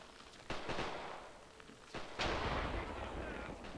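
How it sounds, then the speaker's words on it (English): Grenade blasts in the WWII tactical war game Graviteam Tactics, set on the Mius Front: several sharp, loud explosive bursts in quick succession against a dense backdrop of battle noise. "Ivan throwing grenades at the other gun"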